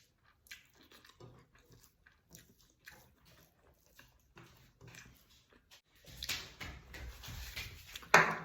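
Chewing while eating fish curry with rice, soft close wet mouth sounds and small bites in scattered bursts, faint at first and growing louder and busier toward the end.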